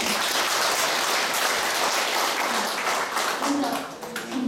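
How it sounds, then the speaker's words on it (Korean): Steady, dense applause from an audience at a Catholic Vincentian society lecture, filling the room without a break and easing off slightly in the last second. "다 같이 박수로"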